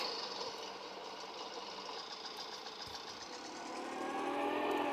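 A Motorynka moped in Farming Simulator 19 runs with a steady, buzzing engine drone that stays fairly even throughout and swells louder near the end, with no talking.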